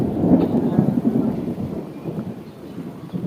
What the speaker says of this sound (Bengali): বৃষ্টি শুরু হয়ে গেল জোর কদমে